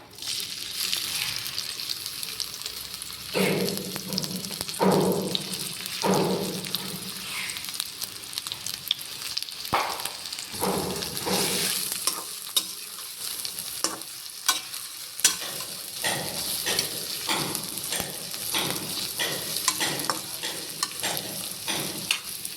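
Sliced onions hit hot oil in a kadai while a biryani is being made, giving a steady close sizzle with scraping stirring strokes throughout.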